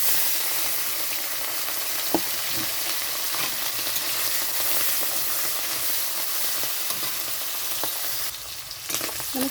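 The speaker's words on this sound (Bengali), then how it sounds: "তো এখানে দিয়ে দিচ্ছি চিংড়ি মাছ।" Prawns fry in hot mustard oil with black cumin and dried red chillies in a kadai, giving a loud, dense, continuous sizzle marked by a few faint clicks of stirring and a brief burst of hissing near the end.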